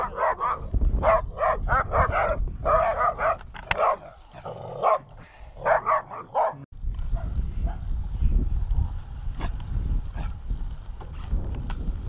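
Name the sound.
dogs barking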